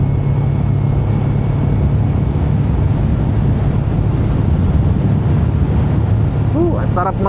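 Steady, loud wind roars across the microphone at a beach with constant rushing noise, and a brief chirpy sound rises near the end.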